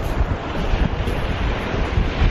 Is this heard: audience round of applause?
no